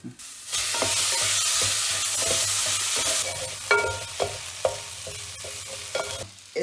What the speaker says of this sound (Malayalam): തക്കാളി കൂടി ഇട്ട് വഴറ്റു കേട്ടോ